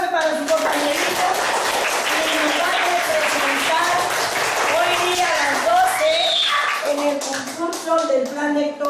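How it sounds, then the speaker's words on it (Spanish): Classmates clap for a young student at a school reading contest. Scattered, uneven handclaps sound under an adult voice, which keeps speaking over the clapping throughout. "un fuerte aplauso para su compañerito"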